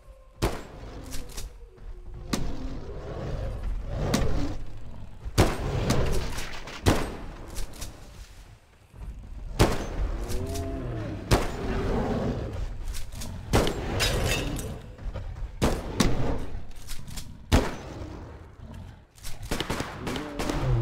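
Pistol fire rings out in a video game, a series of sharp, loud shots spaced irregularly across the stretch. Other thumping game noise and impacts mix in, and no one speaks.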